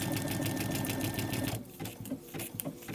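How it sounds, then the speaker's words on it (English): A Brother Dreamweaver XE embroidery machine stitching letters gives a steady, close, rapid mechanical whir that continues throughout, easing somewhat in the final stretch. "And the machine will do a few locking stitches at the end."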